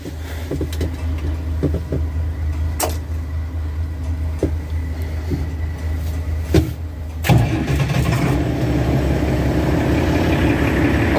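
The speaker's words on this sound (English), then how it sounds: "I'm gonna do a cold start for you guys." A 706 diesel tractor engine turns over in a cold start, with low rumbling and scattered knocks before catching at about seven seconds into a loud, steady diesel idle close by.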